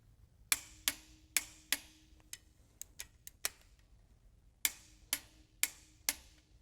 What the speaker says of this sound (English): Make sure you torque the center bolts first to 80 foot-pounds.